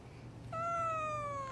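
A single drawn-out cat meow rises suddenly after a brief quiet stretch, loud and close, holding a bright tone that slowly falls away, over a steady low background hum.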